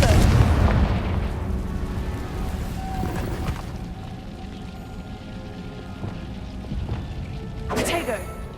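A Confringo explosive spell in Hogwarts Legacy bursts with a loud boom up front, its rumbling blast fading over several seconds before a second sharp burst near the end.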